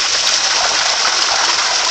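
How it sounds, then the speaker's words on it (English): Water gushes steadily out of a fish pond outlet, a loud, close, continuous rushing roar with no pauses. "Look at the water going down."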